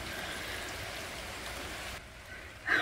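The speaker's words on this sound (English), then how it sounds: "I am so happy about this rain." Rain falls steadily outdoors near a new mobile chicken coop, a broad close hiss that thins briefly before a louder patter at the end, with no voices.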